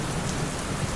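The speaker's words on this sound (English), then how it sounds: "Oh, the rain's coming out." Steady rain pours in a video game scene, a dense, even hiss of falling water that continues unbroken throughout.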